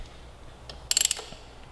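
A ratchet clicks quickly through a short burst of about five sharp, close ticks while torquing an Akrapovic full exhaust clamp on a Kawasaki Ninja 400, preceded by faint handling and quiet surroundings.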